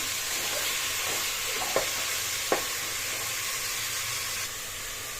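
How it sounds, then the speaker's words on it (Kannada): Loud, continuous sizzling of mutton frying in a pan, with a couple of brief scrapes from stirring. "ಚೆನ್ನಾಗಿ ಫ್ರೈ ಮಾಡ್ಕೊಳ್ಳಿ"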